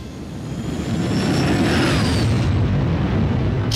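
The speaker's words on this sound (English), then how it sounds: "Jacques, fire up the engines and all weapon systems on Jet Extreme" The jet engines of the Jet Extreme, a fictional space-capable aircraft, roar up from a low rumble into a loud, sustained blast with a rising whine on top, then cut off abruptly near the end.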